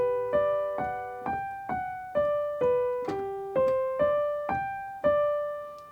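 A piano plays a short melody as a light xylophone-style intro line, a steady run of about a dozen clear, ringing notes that each decay before the next. No one speaks.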